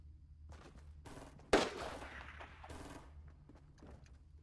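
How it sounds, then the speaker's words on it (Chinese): A rocket launcher fires in Fortnite, one sharp loud blast midway through the clip, its noisy burst fading over about a second amid quieter gunfire and game sounds. "有人拿火箭炮在射。"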